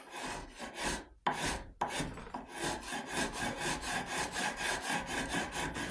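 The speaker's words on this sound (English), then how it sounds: "So I'm going to go straight at it with a rasp." A rasp scrapes across wood to round the edge of a .50 caliber Hawken rifle stock: quick, rhythmic, close rasping strokes, a brief pause near the start, then a steady back-and-forth run.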